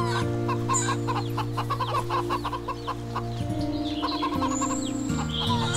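Chickens cluck in the video game Wytchwood, busy, repeated short clucks close by over continuous game background music.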